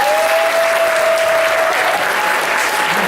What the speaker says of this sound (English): Give the young men a round of applause.